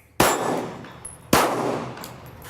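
Two gunshots ring out at a shooting range, each followed by the sharp metallic clang of a steel target plate, spaced about a second apart and loud, with no talk.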